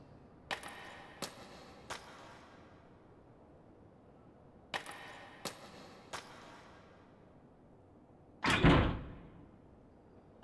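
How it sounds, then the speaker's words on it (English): Sharp impacts against a door in the horror video game Spirit Hunter: Death Mark, two sets of three evenly spaced bangs separated by a pause, then a heavier, louder slam near the end. "I hear a noise like something slamming against the door."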